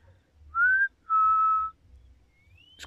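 Two clear, thin high-pitched flute-like notes sound, one short and one longer and steady, followed by a faint rising tone, in a quiet setting with low background rumble.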